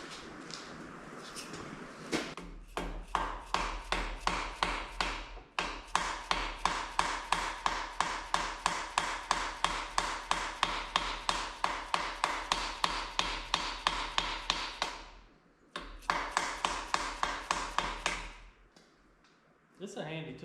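A socket is tapped off a small block Chevy 350 crankshaft with a long run of rapid, evenly spaced metallic hammer blows, close and loud, in several bursts separated by short pauses.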